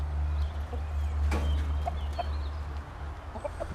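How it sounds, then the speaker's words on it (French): Hens in an orchard cluck softly in short scattered notes over a constant low hum, with no voices. "on a les poules qui sont arrivées"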